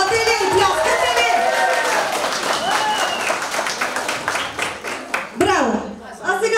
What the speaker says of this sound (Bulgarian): Сега, искам да видя за Тунай колко ръкопляскания ще има.